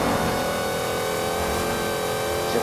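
A car engine in the racing game Forza Horizon 5 revs steadily at a sustained mid-pitched whine, loud and continuous throughout, with no talking.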